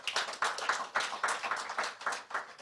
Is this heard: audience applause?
yes